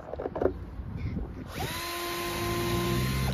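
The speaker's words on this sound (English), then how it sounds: "Drilling the pilot holes for the second point motor" After some faint handling noises, a small power drill spins up and whines steadily while boring pilot holes for a model railway point motor, its high motor tone holding close and continuous to the end.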